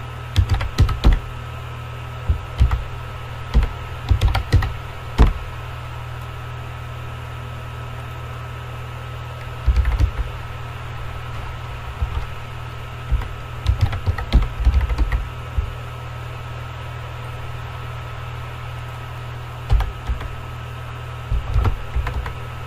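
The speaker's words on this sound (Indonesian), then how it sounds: "Lalu ketik password." Password being typed on a computer keyboard during an admin login setup for a Pydio Cells cloud app: bursts of quick, close key clicks separated by pauses, over a steady low hum, with no talking.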